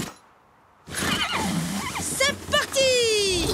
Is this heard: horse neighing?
yes